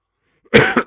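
A single sharp cough, loud and close, bursts out after near silence, followed by a second shorter hack.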